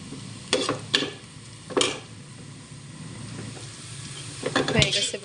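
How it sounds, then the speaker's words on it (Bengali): Sliced onions for beresta fry in a pan with a steady crackling sizzle, while a utensil scrapes and stirs against the metal in sharp intermittent strokes that cluster toward the end. "এখানে বেরেস্তাগুলা ভেজে নিলাম"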